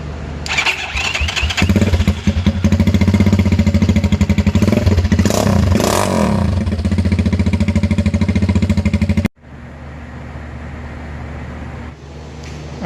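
A Venom X22R 250 minibike engine with no muffler and a 4 degree flywheel key revs loudly and raw, a harsh buzzing roar rising and holding, then cuts abruptly and settles to a rough idle.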